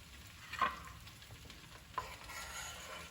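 Chopped, deboned trout and baby spinach gently tossed through hot fettuccine in a pan, two soft scrapes over a faint, continuous sizzle, quiet and close.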